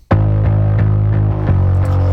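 Bass guitar played through a distortion pedal and a fuzz pedal with the amp bypassed, loud thick sustained notes re-struck in a steady pulse about every third of a second.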